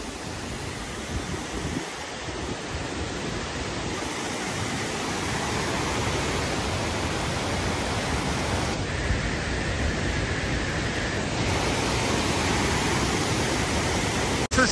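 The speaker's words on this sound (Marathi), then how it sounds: "सगळ्यात मोठा वॉटरफॉल मध्ये सवत्सडा वॉटरफॉल येतो. खूप उंचावरून येतो हा." Savatsada waterfall in Chiplun, water dropping from a great height into a steady, loud broadband roar that fills the whole clip without a break.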